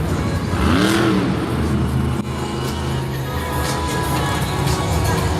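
Monster truck engine revving on the arena track at a Monster Jam event in Lyon, France, a loud rising whine sweeping up then dropping back to a rough mid-pitched idle, under crowd and arena noise.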